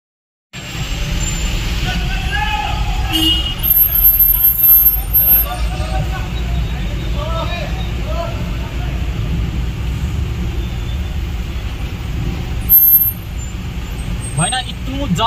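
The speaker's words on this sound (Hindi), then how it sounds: "बहुत ही ज्यादा ट्रैफिक लगा हुआ है" Heavy road traffic with trucks and buses on a night drive, a steady loud roar of engines and tyres with occasional horn blasts, under faint background chatter.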